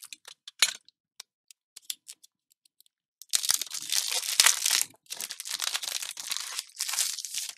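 Scrapbooking pack of tags and cards bought at a Paris craft fair being opened: a few sparse crinkles, then several seconds of loud, continuous tearing and crumpling of plastic wrap and paper, close to the ear.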